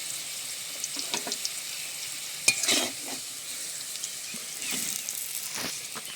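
Potatoes fry in a pan while being stirred, a soft continuous sizzle broken by scattered spatula scrapes and one sharper clank, fairly quiet and without speech.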